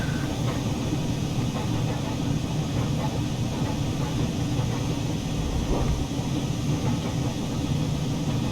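Flying Scotsman steam locomotive running with its train on a gradient, heard as a continuous heavy rumble and rushing roar of the rails, even and loud throughout without clear breaks.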